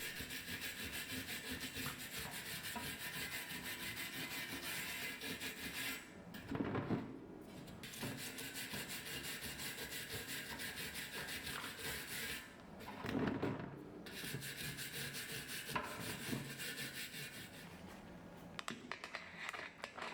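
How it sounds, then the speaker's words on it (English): A brass brush scrubs rapidly and steadily against a bicycle rim, stripping off excess tubular tire glue in a continuous, raspy, close-up scraping with a couple of brief pauses between strokes. "I remove the excess glue from the rim with a brass brush"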